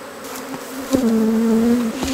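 Honeybees hum steadily around an opened hive during a honey harvest, a close, sustained buzz with a few pitch swoops as individual bees fly past the microphone.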